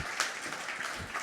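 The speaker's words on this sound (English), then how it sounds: "One more round of applause for them." Applause from an investor day audience, a steady broadband patter of many hands at moderate level throughout, with no voices over it.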